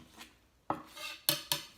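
Broccoli being chopped on a board, a few sharp close knife strikes with short scraping rasps between them, including two quick cuts near the end.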